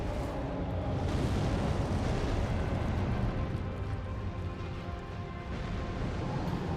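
In Elden Ring, the Fire Giant unleashes a fire attack, a dense continuous roaring rumble like an eruption that stays loud and steady throughout, with no speech.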